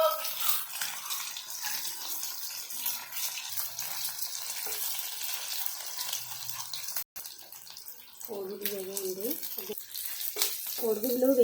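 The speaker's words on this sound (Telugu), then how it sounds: "కోడిగుడ్లు వేగేయండి." Eggs frying in oil, heard as a steady close crackling sizzle with faint clatter and a brief break. Near the end, soft voice-like tones rise over the frying.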